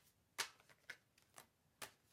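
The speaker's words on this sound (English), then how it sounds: "that was just an awkward shuffle. The cards kept sort of banging together" Tarot cards shuffled awkwardly, giving four sharp papery slaps and riffles spaced across about two seconds, quiet and close, with no voices.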